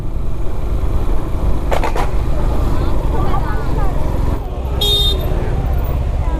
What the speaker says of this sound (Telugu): నేను హారన్ కొడుతూ ఉంటాను